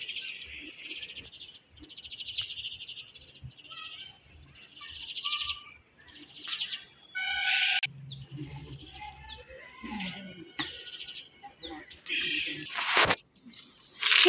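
Small birds chirp and tweet repeatedly in quick, overlapping bursts while being fed fried sev from a snack mixture on a rainy-season morning. The calls are close and fairly loud, with a little faint low background noise.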